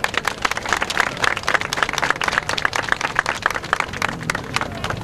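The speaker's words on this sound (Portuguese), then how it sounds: "uma grande salva de palmas" A crowd claps vigorously for a visiting commission from Ilhéus at a municipal-week ceremony in Juazeiro, with sharp, closely packed claps of even loudness for the whole stretch.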